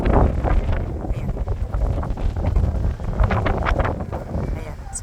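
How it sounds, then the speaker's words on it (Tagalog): Strong wind roars steadily against the microphone in gusty, rumbling waves, with a person talking faintly underneath. "So malakas ang hangin."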